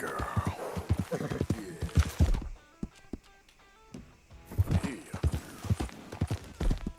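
Horse hooves clip-clopping while riding in the video game Red Dead Redemption 2, a steady trotting rhythm of close hoof beats with game music and ambience, briefly quieter in the middle.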